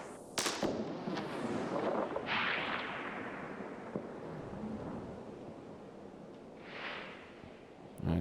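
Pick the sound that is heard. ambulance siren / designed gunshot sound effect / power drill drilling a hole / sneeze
designed gunshot sound effect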